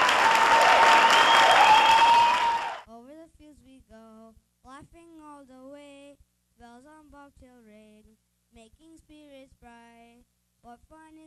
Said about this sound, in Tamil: உற்சாகமான கரகோஷம்.